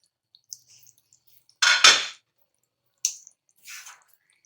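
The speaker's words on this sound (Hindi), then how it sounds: "ये मैं ढक्कन लगा दूंगी इसको" A lid is set on a cooking pot of matar paneer with a couple of quick metallic clanks and scrapes, followed by a few lighter clinks, close and clear in an otherwise quiet kitchen.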